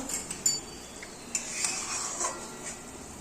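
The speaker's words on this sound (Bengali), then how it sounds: "আমি একবার নেড়ে দিলাম এটা" A spoon stirs boiling bottle-gourd kofta curry gravy in a pot, giving scattered light clinks and scrapes against the metal, close and fairly quiet, with no talk.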